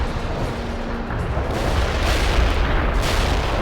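A heavy artillery barrage in the video game World in Conflict, a loud, continuous rumbling roar of overlapping blasts with a few sharper booms, with no voices over it.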